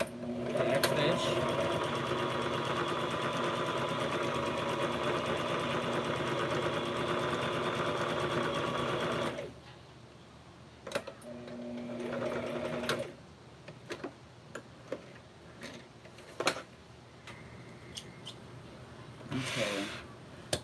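A sewing machine stitches a crazy quilt coaster, running steadily and loudly for about nine seconds, then stopping, with brief restarts and handling clicks afterward.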